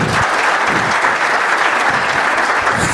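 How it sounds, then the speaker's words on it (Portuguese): Steady, loud audience applause at an evening talk on financial education, a dense unbroken wash of many hands clapping for the whole stretch. "Então eu vou pedir que vocês me ajudem a receber com todo carinho uma salva de palmas,"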